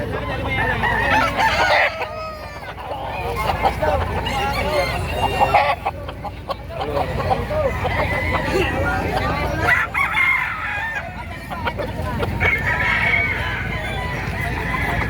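Roosters crow repeatedly while hens cluck throughout, set against a busy, crowded chicken market in Padre Garcia, Batangas, with people talking nearby.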